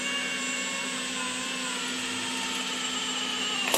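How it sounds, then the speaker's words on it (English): Power drill boring holes into the sheet-metal body of a rusty square-body GMC truck, a steady high-pitched whining motor drone held continuously for a few seconds, close and constant, ending with a small knock. "Gotta keep drilling holes."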